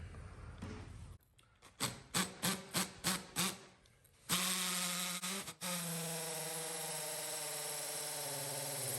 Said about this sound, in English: Anyways, let's get drilling.